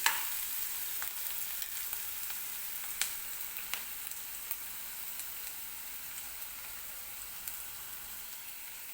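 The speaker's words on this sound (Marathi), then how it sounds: "कांदा व्यवस्थित तेलामध्ये भाजून घ्यायचा आहे." Onion frying in oil in a pan for tur dal, a soft, steady crackling sizzle punctuated by small sharp pops and light stirring taps, fairly quiet and without talk.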